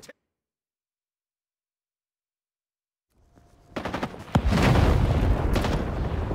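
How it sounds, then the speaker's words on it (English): A napalm strike in the Vietnam War shooter Rising Storm 2: Vietnam hits after a few seconds of silence, with a sharp blast building into a loud, sustained roaring, crackling fire and rumble. "Napalm inbound."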